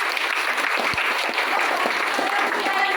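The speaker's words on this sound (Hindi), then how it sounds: "सर जी के लिए जोरदार तालियां" At a business motivation meeting, the audience bursts into loud, sustained applause for a high school professor, the crowd's clapping a continuous dense roar throughout.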